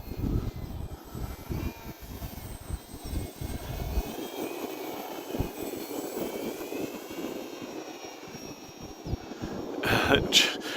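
Hobbyzone Carbon Cub S 2 1.3m RC plane motor whining at full throttle during a climb-out, a continuous buzzing drone over gusty wind noise, with someone talking nearby.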